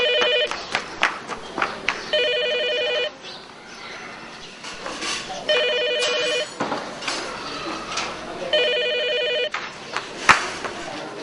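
A telephone ringing in repeated bursts of electronic trilling tones, about four rings with pauses between them, fairly close and clear, with scattered knocks and a low background rumble; nobody speaks.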